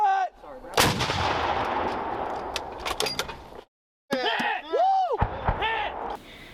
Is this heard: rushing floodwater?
no